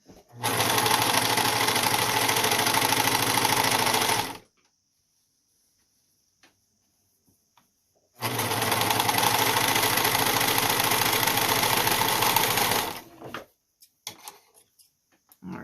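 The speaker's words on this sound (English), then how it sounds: "Okay, let's move to the serger." A serger overlock machine stitching the fabric edges of a surgical tie-back scrub hat, whirring loudly in two long continuous runs of about four seconds each, separated by a quiet pause with faint handling clicks.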